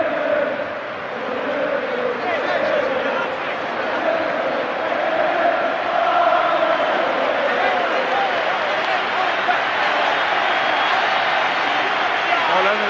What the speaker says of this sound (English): just look at the Liverpool fans giving a cheer to the Everton players going round